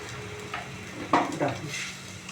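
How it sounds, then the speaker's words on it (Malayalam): A tomato curry mixture bubbles and sizzles in a pan, with a few soft clinks and scrapes of stirring rising over the steady cooking noise for a couple of seconds. "ഇതെല്ലാം കൂടി ഇങ്ങനെ നന്നായി തിളക്കട്ടെ"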